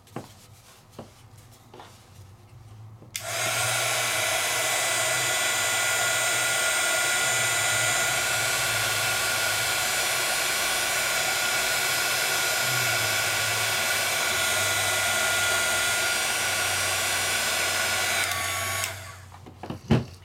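A craft heat tool blows on embossing powder and glitter over small die-cut pieces. Its loud, steady, high-pitched whirring runs close for about fifteen seconds, with faint handling clicks before it starts and after it stops.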